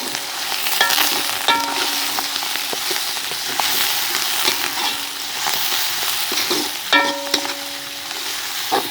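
Onions, green chilies, curry leaves and rampe leaves sizzling in hot oil in a pan, with a steady close frying hiss and occasional scraping strokes of a spoon as the mixture is stirred.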